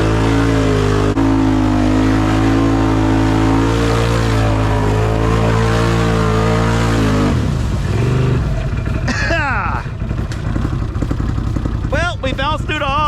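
A Can-Am Outlander ATV engine roars loudly and continuously while driving through a cold mud hole, the pitch shifting as it bounces through, with splashing and voices toward the end.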